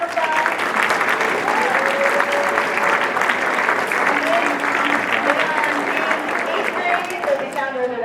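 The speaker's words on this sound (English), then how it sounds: "Can we give them a big round of applause?" An audience claps at a third grade strings performance in an elementary school, with dense, sustained applause and a few cheers and voices mixed in.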